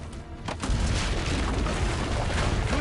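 Cannons fire in the video game Assassin's Creed Brotherhood, with deep booming blasts rolling into a dense, rumbling barrage that stays loud and continuous with no talking.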